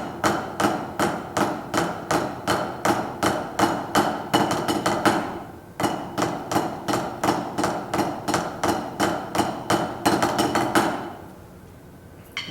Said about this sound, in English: And these are just straight flams, okay?